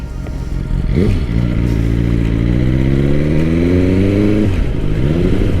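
A 2021 BMW S1000R motorcycle engine rides through town, its loud, steady note climbing and dropping in pitch as the rider shifts through gears, close and continuous with no one talking.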